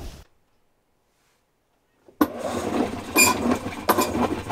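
A used washing machine, about three years old with a bad tub, starts its spin after near silence, breaking into a loud rumbling, rattling churn with periodic harsher surges.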